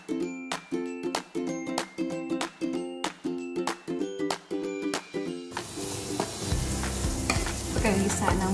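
Garlic and onion sautéing for a pasta sauce with ground beef, a run of rhythmic stirring scrapes over soft sizzle, then a louder continuous frying hiss near the pan.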